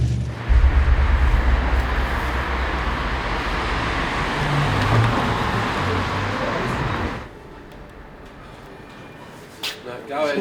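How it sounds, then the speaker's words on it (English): A truck rumbles steadily along a road in New Zealand with loud engine and tire noise for about seven seconds, then drops to a quieter cabin hum with small knocks. "I love driving the truck"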